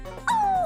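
A voice imitates the yelp of a dog struck by a thrown clod: a single short, high whining cry that slides downward in pitch.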